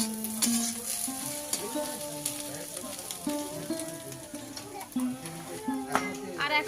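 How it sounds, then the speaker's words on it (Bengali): Potato and egg bhaji fries in a pan with a steady close sizzle and occasional scraping stirs, while a musical tone and faint talking carry on underneath. "ডিম দিয়ে আলু দিয়ে ভাজি করছে"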